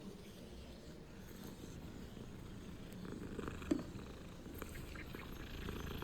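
A cat in the video game Hogwarts Legacy purrs while being petted: a soft, continuous low rumble, close and even, with one faint click partway through.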